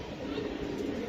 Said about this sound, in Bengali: এই যে দেখেন আরেকটি কবুতর